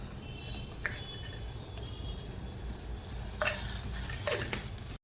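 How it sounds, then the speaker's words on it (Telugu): A spoon stirs jaggery dissolving in water with salt and cardamom powder, soft scraping and a few light clinks against the pot over a low steady background hiss. "ఈ బెల్లం అంతా ఈ వాటర్లో కరగబెట్టుకుందాం."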